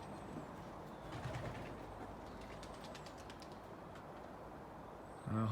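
Pigeons cooing softly in a quiet coop, faint repeated low coos over a hushed background, with a brief louder bump near the end.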